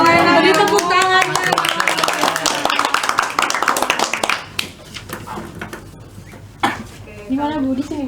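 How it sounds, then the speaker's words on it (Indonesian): Classroom clapping during a history microteaching session, a burst of close, dense applause from students lasting several seconds before fading, with voices talking over it and afterward. "Beri tepuk tangan."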